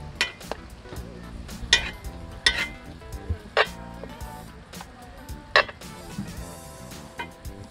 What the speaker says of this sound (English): Just actually baste the steak for about 3 minutes so you can actually get the juices go back to the steak